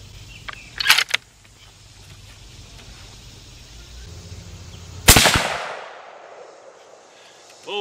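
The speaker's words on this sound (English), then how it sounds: "Let's see how this three shot group does here." A single sharp 6.8 Western rifle shot fired at a target outdoors rings out loud and close, followed by a decaying rumble, with a smaller sharp crack shortly before it.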